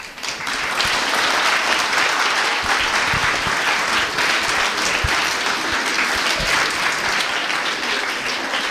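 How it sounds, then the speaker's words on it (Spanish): An audience claps at the close of a history lecture on heritage, with steady applause rising quickly and holding at an even level, fairly close, with no voices heard. "con ese aplauso agradecemos al profesor Tito Figueroa"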